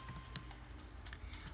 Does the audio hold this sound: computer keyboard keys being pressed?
yes